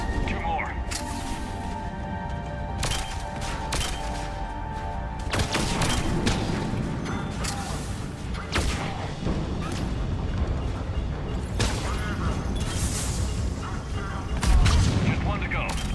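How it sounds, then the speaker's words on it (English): Grenade blasts in Mass Effect 3 combat: a busy, dense stretch of repeated booming explosions and gunfire over about sixteen seconds, loud and continuous, with sharp bursts recurring throughout. "Who's throwing grenades next to the bomb?"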